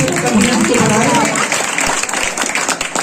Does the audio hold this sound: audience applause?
yes